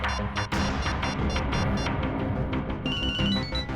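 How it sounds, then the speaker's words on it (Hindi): A phone ringtone plays a bright electronic melody of repeating tones, loud and close, with no one talking. "मेरे फोन करने पर अलग तरह की रिंग बजी"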